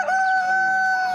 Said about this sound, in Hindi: कुकड़ू को बोलता इतना खूबसूरत मुर्गा भी यकीनन आपने पहले कभी नहीं देखा होगा।